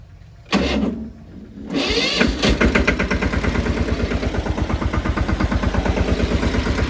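A farm tractor's engine cranks briefly, stalls, then catches on the second try and settles into a steady, loud, rhythmic chugging idle, close by with no talk.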